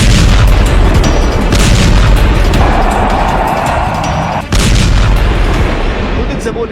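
A B-2 bomber airstrike on Houthi targets in Yemen produces loud, heavy booms that merge into a continuous rumbling roar, briefly dipping midway before surging again, with faint voices mixed in.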